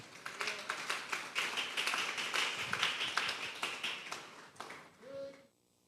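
A congregation at a Sunday church service claps for the Lord, a fairly loud burst of hand claps with distinct individual strikes that thins out and stops near the end, leaving a faint tone.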